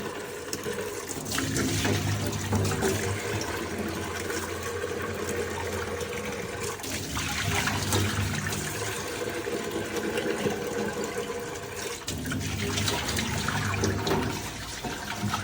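Water gushes and splashes while a mop machine's tank is rinsed out, a loud, continuous rushing flow that swells and eases in waves close by, with no voices over it.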